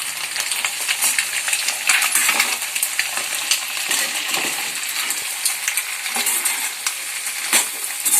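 Potato and carrot pieces fry and get stirred in a pan for a noodle dish, giving a continuous bright sizzle dotted with scraping clinks of a utensil against metal, close up with no talk.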